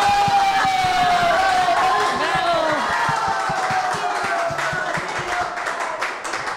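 Sonorous applause from a live audience at a Mother's Day gathering in Biblián, Ecuador, honoring the pianist; dense, steady clapping fills the scene with a sustained tone lingering beneath, gradually easing toward the end.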